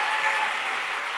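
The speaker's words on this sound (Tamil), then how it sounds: "அவருக்கு ஒரு விசேஷ கைத்தட்டு தட்டிருங்க" An audience in an auditorium applauds: a brief burst of dense, steady clapping from many hands.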